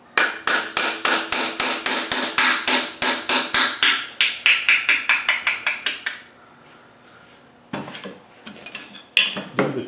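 Steel chisel struck repeatedly by a hammer to drive a part out of a Land Rover 300Tdi engine during a strip-down: a fast, steady run of sharp metallic blows for about six seconds, then a pause, scraping, and a few more clinks.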